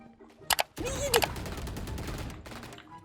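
Gunfire in the tactical shooter game Valorant: two sharp, close shots followed by a loud, dense stretch of rapid firing and clatter that runs to the end, with a brief voice-like tone partway through.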